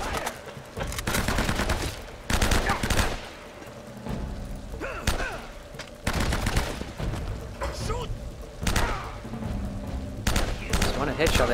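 Bursts of gunfire in Uncharted: Drake's Fortune, several loud volleys of shots and thuds at irregular intervals over a game soundtrack, with people talking over parts of it.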